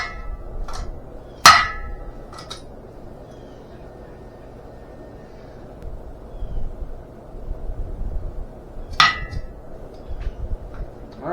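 A melted gold button from refined jewelry is struck to knock glass off it, giving two sharp, loud metallic knocks several seconds apart with a quiet workshop hush between them.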